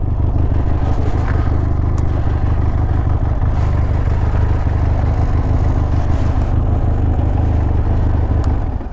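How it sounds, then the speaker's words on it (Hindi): Hero Xpulse 200 and Benelli TRK 502 motorcycles running on a highway, a loud continuous engine drone with rumble and some clatter, close by and without speech. "आज बहुत दिनों के बाद में अपनी दोनों मोटरसाइकिल लेकर के निकला हूँ।"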